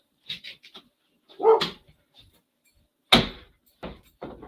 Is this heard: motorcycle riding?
no